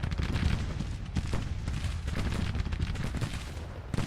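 Dense rifle volleys rattle through a Civil War video game battle, a continuous loud crackle of overlapping shots and booms with no pauses and no talk.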